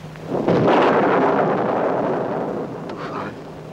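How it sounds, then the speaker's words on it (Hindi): Thunder rumbling through a storm in an old Hindi film scene, a loud broad roar swelling at half a second and slowly fading over a few seconds, with a faint voice at the start. "तूफान है।"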